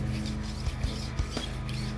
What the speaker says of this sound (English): So let's wet sand this a little bit. I'm just lightly taking some 2000 grit